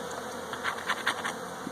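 Honey bees buzz at an open hive during an inspection, a steady insect drone with several brief louder swells as individual bees pass close, no talking.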